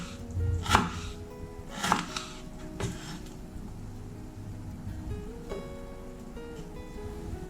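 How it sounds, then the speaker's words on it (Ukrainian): A knife dices kiwi into half-centimetre cubes on a cutting board in a few separate, fairly soft chops, spaced unevenly, against a quiet background. "Ківі нарізатиму кубиком."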